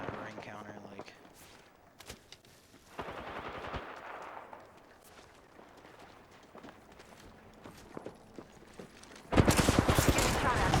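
Rapid automatic weapon fire in the Apex Legends video game, bursts of shots rattling through the clip and swelling to a loud, dense volley near the end, with soft voice chatter underneath.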